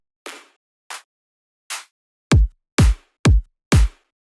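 Three sharp, bright claps ring out first, followed by four punchy electronic kick drums with deep booming tails, evenly spaced and isolated, from a bass house track.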